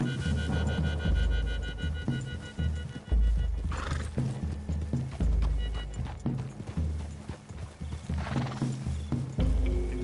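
Video game horses from Red Dead Redemption 2: a horse neighs loudly more than once over the thud of hooves, with a low steady hum running underneath.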